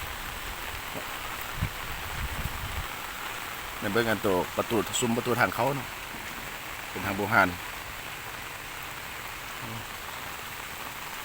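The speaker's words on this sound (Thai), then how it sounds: "มันนี่สังเกตได้ว่าฝนตกแล้ว" Steady rain patters softly in the background at an old temple in Luang Prabang, Laos, continuous throughout, while someone speaks briefly in the middle.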